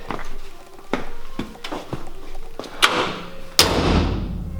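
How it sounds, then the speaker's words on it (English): A stripped-out Classic Mini's door is shut several times, giving a series of close thuds and slams, the last two heavier and more ringing, each separated by brief pauses with no talking. "Doors shut nice."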